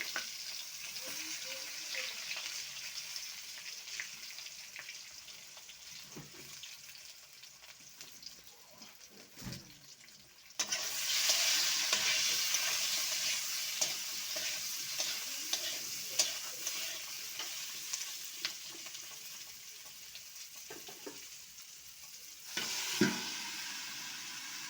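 Eggplant slices frying in oil in a pan, a soft sizzle that jumps to a louder, steady crackle partway through, with occasional clicks and scrapes.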